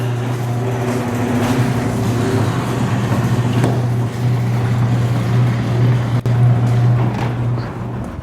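A BMW car's engine hums steadily up close with a low, constant drone and a faint mechanical whine, running alone without talk for several seconds.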